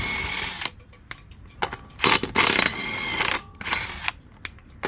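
A wheel comes off a 2013-2015 Nissan Altima with bursts of power-tool whirring and ratcheting, several short loud blasts separated by brief pauses, close by.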